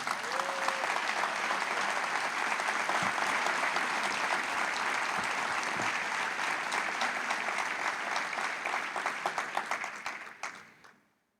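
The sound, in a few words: church congregation applause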